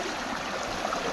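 Strong floodwater rushing near a village pond, a continuous hissing, gurgling flow heard up close and steady for the whole moment, with no talking over it.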